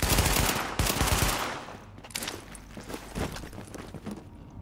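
Rapid automatic gunfire in the video game The Division, with a loud dense burst of shots at first, then scattered single shots and lighter pops trailing off.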